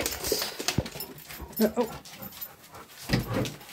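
Dogs pant, sniff and whimper excitedly up close before setting off on a walk, with short yips and restless breathing, while a person briefly speaks.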